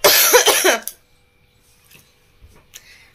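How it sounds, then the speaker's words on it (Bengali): An elderly woman who is ill coughs in a short, harsh burst that fades quickly, followed by near silence broken by a couple of faint, distant noises. "কাশি আর জীবন থেকে যাবে না জানো তো"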